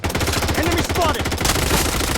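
Rapid automatic gunfire in the video game Blood Strike, a loud close burst of evenly spaced shots followed by a brief noisy tail.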